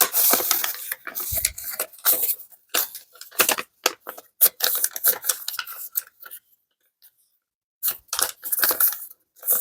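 Paper is creased and folded three times into a small accordion for a journal, giving close, crisp rustles and sharp pressing scrapes in short bursts with brief quiet gaps.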